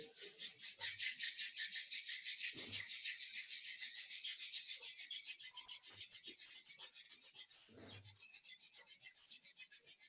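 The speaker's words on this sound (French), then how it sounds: "On va venir frotter les mains." Hands rub together briskly during a home yoga session, a faint, rapid rhythmic swishing of skin on skin that repeats steadily throughout, with a couple of soft low thumps in the background.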